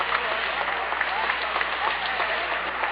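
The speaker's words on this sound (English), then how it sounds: "these youngsters are just yelling and clapping as though their lives depended on it" A crowd of youngsters clapping and yelling for President Kennedy, dense continuous applause with raised voices, heard through narrow-band radio audio.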